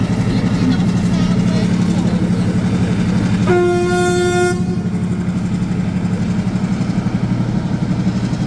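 Train rolling across the Nine Arches Bridge, a steady rumbling clatter with a loud sustained horn blast midway, voices faint beneath.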